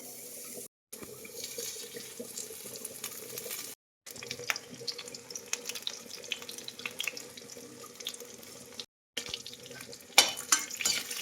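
Water pours steadily into a pot of lentils, a continuous close splashing rush with short breaks, faint and even throughout.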